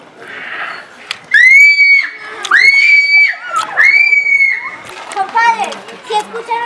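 Shrill, rising shrieks and cries ring out from a cave in rapid bursts, close and loud, with some reverberation and voices mixed in.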